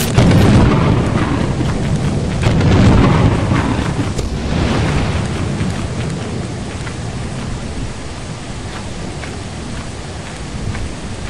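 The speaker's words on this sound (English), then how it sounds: "It's the storm." A heavy rainstorm in the video game Lethal Company, with steady loud rain, gusting wind and rolling thunder swelling early on, then a continuous dense downpour.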